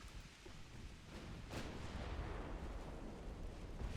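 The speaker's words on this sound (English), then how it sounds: "That was a 12-inch hit." A 12-inch naval gun shell hit in the video game Ultimate Admiral Dreadnoughts: a faint, distant muffled boom with a brief sharp crack, settling into a low rolling rumble, with no talk.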